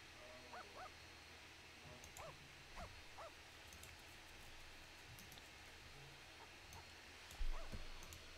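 A dog in a video game whimpering, with a few short high whines spread over several seconds, faint against a low, steady background hum.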